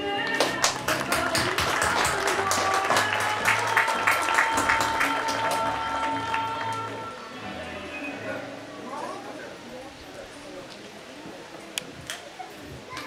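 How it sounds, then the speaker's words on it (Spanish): Applause for the club president at a Chilean criollo rodeo in Futrono, a crowd clapping loudly for several seconds and then thinning out to scattered claps, with a voice over a loudspeaker and faint background music. "Un fuerte aplauso."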